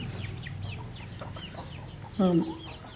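A rooster sold at a market for parrot-beak hens and cocks gives a short clucking call, heard amid background voices and general noise.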